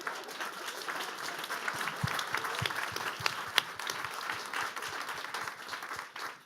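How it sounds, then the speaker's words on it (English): Applause from a demo day audience at Google HQ after a web app presentation: many hands clapping in a steady roar, with a few sharper individual claps standing out before the sound tapers off at the end. "actually, give another round of applause."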